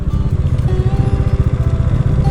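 A motorcycle engine runs close by near old ruins at Garh Panchkot in Purulia, giving a steady, loud, low-pitched chugging pulse with no pauses throughout.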